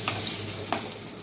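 Papaya slices fry in hot oil in a pan, a steady close sizzle broken by two brief scraping clatters as the pieces are turned over.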